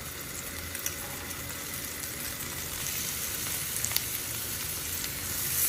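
Garlic sizzling in melted butter in a pan for herb rice, a close, steady hiss and crackle with a few small pops, rising slightly toward the end.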